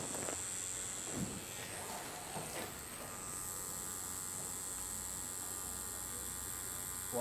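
A tattoo machine buzzes steadily and continuously at close range while the eyes of a tattoo are worked, a constant electric whine with faint handling noises early on.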